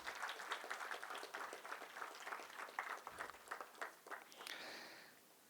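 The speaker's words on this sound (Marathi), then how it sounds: "मी शुभमसाठी आपण जोरदार टाळ्या वाजवूयात" Audience applause at an inaugural workshop session in Pune, a faint, steady patter of many hands clapping together, fading out toward the end.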